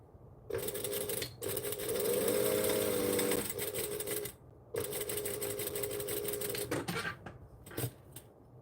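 A sewing machine runs in bursts, stitching forward and then back stitching, with a fast steady needle clatter that pauses between runs, followed by a few small handling clicks at the end.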